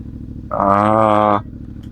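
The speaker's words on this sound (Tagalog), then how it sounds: "So, di ba, medyo maingay yung dating ng motor." A 450MT motorcycle fitted with a 15-tooth front and 45-tooth rear sprocket revs its engine briefly, a strong harmonic engine roar swelling for about a second over a low idle.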